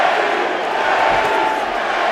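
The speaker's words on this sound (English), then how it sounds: "The crowd tries to summon up a rally for Garcia." A boxing arena crowd roaring in a dense, continuous wash as fans try to rally behind fighter Danny Garcia in his bout with Thurman, loud and sustained throughout.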